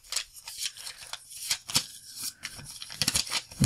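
A stack of cards is shuffled by hand in quick riffling bursts, a series of papery flutters and snaps close up with no talking.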